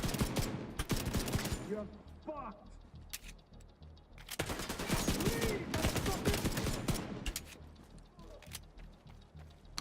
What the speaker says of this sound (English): gun sounds pretty good